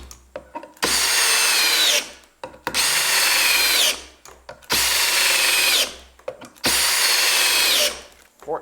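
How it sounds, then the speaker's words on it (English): A cordless drill whirs in four steady bursts of about a second each, driving screws into a 4x4 wood post, separated by short pauses, close by and loud. "First section of 4x4, I'm going to start the 5 screws."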